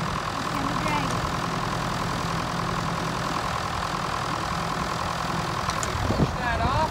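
A tractor engine idles at a steady, even rumble while hauling a New Holland 258 rake on a trailer, constant and fairly close, with a voice talking faintly over it.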